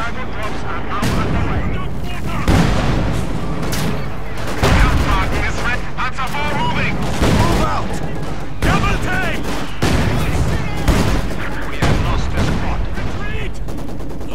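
Enemy gunfire in a war video game battle with tanks: dense, continuous volleys of shots and blasts, loud and close, while a voice talks over it.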